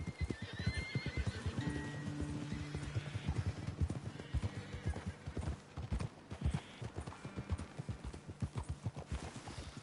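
In Red Dead Redemption 2, horses whinny near the start while hooves clip-clop in a quick, uneven patter throughout, fairly faint and close, with creaking tack mixed in.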